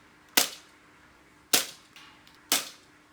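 Three sharp, loud snaps from a homemade toy flintlock blaster powered by surgical tubing, firing half-length foam darts indoors, each crack decaying quickly, spaced about a second apart with no talk.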